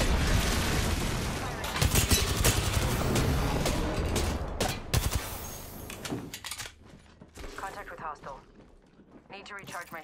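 Gunfire rattles in a Newcastle shooter video game, dense bursts of shots crowding the first half before thinning into scattered pops, with a player talking over the action.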